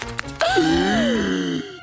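A cartoon character gives a dramatic gasp: a sharp breathy intake, then a long wavering voiced moan that falls away, loud and close with no other talk around it.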